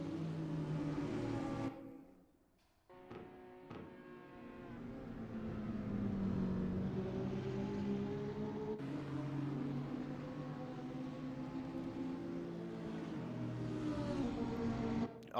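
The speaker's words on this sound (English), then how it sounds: "That sounds like a car that is out of fuel." A GT4 race car in Assetto Corsa, racing at Oschersleben and running out of fuel, drones steadily, cuts out abruptly with a few sputtering pops, then a steady engine drone returns.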